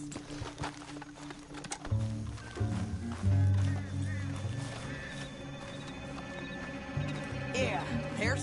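Horse hooves clip-clopping and a horse whinnying in the video game Red Dead Redemption 2, set in a canyon, with game music and dialogue running over them at moderate loudness.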